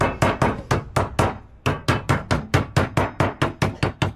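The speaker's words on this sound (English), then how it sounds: "And then when you hammer that in there" Rapid hammer blows strike a metal paint can lid, about sixteen sharp, close knocks in quick bursts with a short pause partway.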